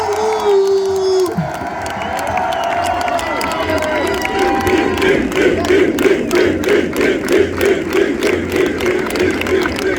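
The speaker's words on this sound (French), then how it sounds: "Capitaine, merci pour nous, les applaudissements pour vous." A large rugby crowd celebrating a Champions Cup win roars and chants, breaking into rhythmic clapping and cheering that builds steadily; loud, dense, and close, with a voice over the noise at the start.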